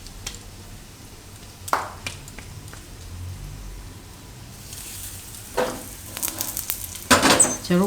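Jowar-flour dhebra roast on a griddle over a very low flame, giving a quiet, steady sizzle broken by a few sharp clicks and scrapes and a louder burst of crackling near the end.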